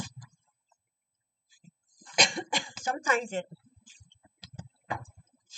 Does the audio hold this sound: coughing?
yes